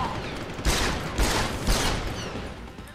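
Three loud pistol shots ring out in quick succession in the Deus Ex video game, each a sharp blast followed by a short ringing decay, with no talking.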